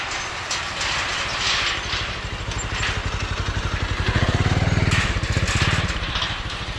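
Several motorcycles roaring past in a cycling video game, a loud, continuous engine drone with a pulsing throb that swells toward the middle and stays heavy, with no talk over it.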